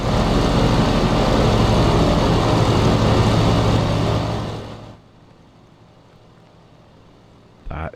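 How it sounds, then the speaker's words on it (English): Douglas DC-3 radial engines in the Prepar3D flight simulator roar loud and steady, then fade quickly to a low hum, followed by a short burst of noise at the end. "I've had to turn down the audio settings because these engines are beasts."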